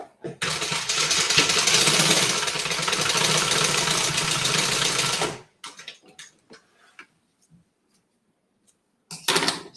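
A sewing machine stitching the pocket of a crossbody bag runs steadily for about five seconds, then stops, leaving scattered short handling clicks and knocks.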